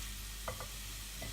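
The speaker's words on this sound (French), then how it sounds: "on va laisser cuire comme ça les girolles avec les échalotes au beurre" Chanterelle mushrooms and shallots frying in butter in a pan, a steady close sizzle with a couple of brief stirring scrapes, quiet and without talk.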